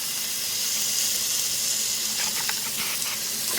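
Small pieces of bacon sizzling in a frying pan, a steady bright hissing crackle with a few louder pops toward the end, close and continuous, no talk.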